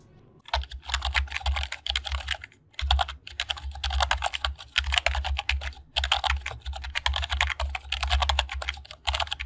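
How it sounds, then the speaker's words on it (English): Typing on a Redragon S101 computer keyboard, close and clear: bursts of rapid key clacks with brief pauses between runs, steady throughout with no talking. "We'll talk about it right after a sound test for the keyboard."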